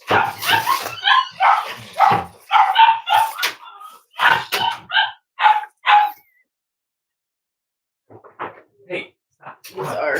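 Dogs bark in loud, close bursts of repeated yips and woofs, then fall silent for a couple of seconds before a few quieter barks return, with a voice talking in between.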